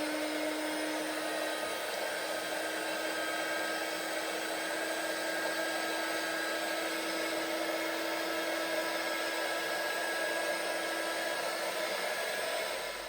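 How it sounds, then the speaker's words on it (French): A heat gun blows steadily on a scented wax candle to smooth its surface, a constant whirring, hissing airflow close by that holds level and unbroken throughout, with no speech. "avec le pistolet à cire, je régule ma bougie"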